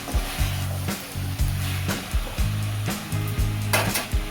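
Onion, garlic and coconut masala with byadgi chillies sizzle with chicken in a hot pan, a continuous fry broken by repeated scraping stirs, close and fairly loud.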